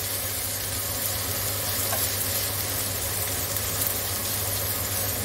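One hundred grams of bacon lardons fry in a pan with a dense, loud, even sizzle, a low steady hum running underneath throughout.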